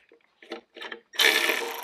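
A ratchet or impact tool on a Jeep XJ during engine removal clicks in a few short bursts, then runs steadily as its trigger is pressed, loud and close.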